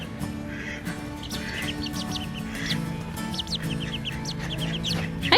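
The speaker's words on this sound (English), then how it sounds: "Hi, chickens!" Chickens, young birds newly let outside, cluck and chirp in a busy outdoor scene, with short repeated calls scattered throughout over a low steady background.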